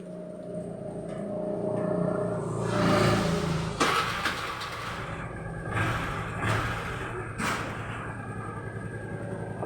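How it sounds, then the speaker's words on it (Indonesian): A carburetor motorcycle engine starts and settles into a steady idle, a close rumbling drone with a few brief revving swells and mechanical knocks. "saya hidupkan dulu motornya"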